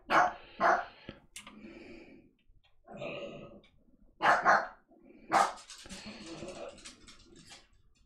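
Repeated barks and growls from a dog in the MineClone5 Minetest game come in irregular bursts separated by short pauses, close and clear, with snarling between the louder yaps.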